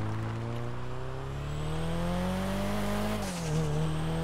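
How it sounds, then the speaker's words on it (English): A right-hand-drive car's engine in Grand Theft Auto V hums with a steady rising tone as it accelerates, then drops sharply as if shifting gear before climbing again, with faint tire and road noise. "This car sounds so good."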